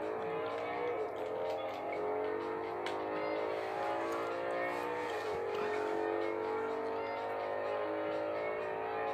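Car engine droning steadily while driving, with harmonic tones that rise and fall gently over a constant road rumble, fairly close and with no clear talk.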